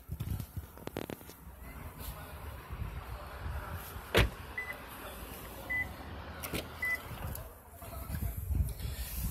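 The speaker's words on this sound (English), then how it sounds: "Power windows, mirrors, locks." Power windows on a 2016 Toyota Prius Two Eco, a soft electric motor hum gliding the glass, with a few clicks and thumps of door or switch handling and faint beeps, fairly close.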